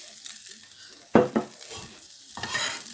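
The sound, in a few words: olive oil heating in frying pan before adding zucchini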